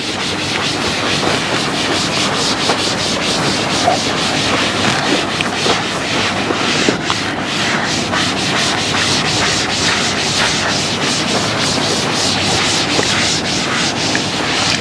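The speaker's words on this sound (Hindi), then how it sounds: "Let me rub this portion." A board being rubbed clean during a mathematics lecture, a steady, loud scrubbing and swishing that runs continuously with quick repeated strokes and no talking.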